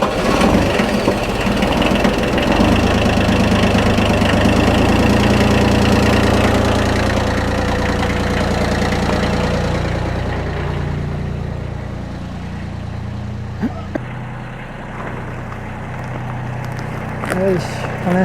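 A wood chipper's engine idles steadily as it warms up, a loud continuous mid-pitched drone that softens somewhat toward the end, with a few brief knocks and some talk nearby.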